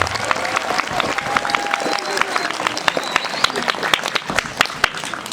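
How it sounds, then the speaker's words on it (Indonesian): A crowd at an Islamic boarding school gathering applauds, dense sharp clapping with distinct individual claps standing out, loud and close, with voices mixed in under it. "Tepuk tangan untuk pondok kita semua."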